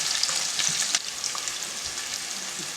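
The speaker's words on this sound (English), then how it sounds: "Let that fry up a bit." Bean stew ingredients frying in a pot give off a steady, close hiss and crackle of sizzling oil, with faint stirring scrapes running through it and no voices.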